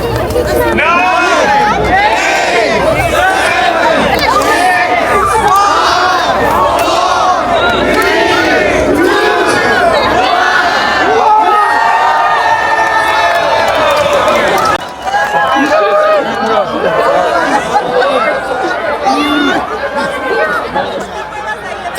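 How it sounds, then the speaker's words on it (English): A large shoreline crowd at the Polar Bear Swim in English Bay, Vancouver, yells and cheers steadily as swimmers run into the icy winter water, a dense, loud roar of many voices that dips briefly before rising again. "are thousands of people in attendance, with most watching from the shore, including us, cheering everyone on"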